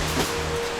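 Roaring rush of a waterfall pouring down into a deep sinkhole in Florida, a steady broadband wash of falling water heard up close, continuous and fairly loud for the short moment with no voices.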